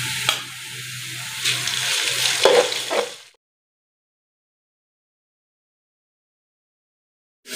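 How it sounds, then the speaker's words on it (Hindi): Garlic-ginger paste sizzles and spatters in hot ghee with fried onions, loud and close for about three seconds before falling silent. "प्याज हमारे जी हफ्ते के फ्राई हो चुके हैं, अब इसमें लहसुन अदरक का पेस्ट डालेंगे 2 चम्मच के बराबर।"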